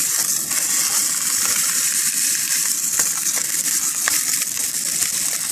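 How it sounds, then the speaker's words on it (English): Side fat sizzles steadily as it renders in a pan at a lakeside campsite, a dense continuous crackle with small pops, close and loud with no talk. "I put the side fat down first, and that is how I lubricate the pan. I just render some of that fat."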